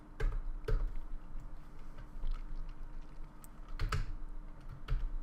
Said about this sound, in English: just to type what I type in